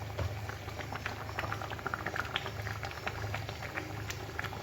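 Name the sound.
dal (lentils) boiling in a pot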